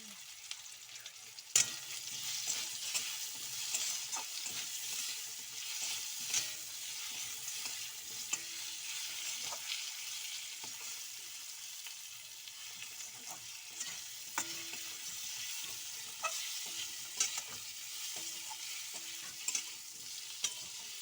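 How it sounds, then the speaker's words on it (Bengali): Mango pieces fry in hot oil for mango chutney, giving a steady soft sizzle throughout with occasional sharp clinks and scrapes as a spoon stirs the pan, no voices. "আমগুলো তেলে একটু ভেজে নেবেন, এরকমভাবে আমগুলো ভেজে নেবেন তেলে।"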